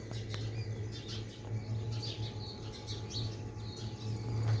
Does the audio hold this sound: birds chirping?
yes